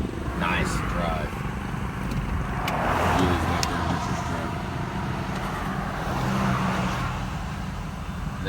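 A crossover tube truck rolling down a highway in Arkansas and slowing toward a stop, with a steady road and engine rumble that rises and falls gently and someone talking over it throughout.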